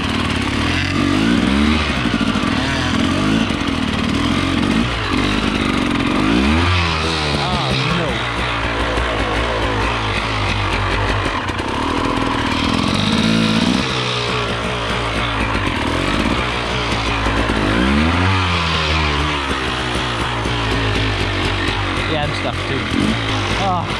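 An enduro motorcycle churns along a very muddy trail, its engine revving and bogging repeatedly as the rider throttles through the sludge, loud and close throughout with no speech.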